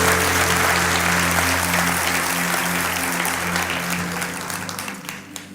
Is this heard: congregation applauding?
yes